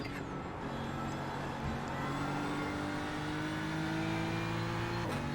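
GT3 race car at Spa in iRacing, its engine droning steadily and loud throughout, with rising pitch sweeps as it accelerates through gears and a brief dip at a shift near the start.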